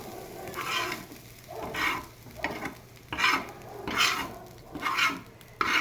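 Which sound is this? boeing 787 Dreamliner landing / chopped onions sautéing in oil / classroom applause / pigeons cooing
chopped onions sautéing in oil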